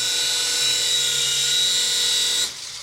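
A small flying toy helicopter bought from AliExpress runs with a loud, steady high-pitched whirring buzz of its tiny rotor, held close for over two seconds before dropping off abruptly.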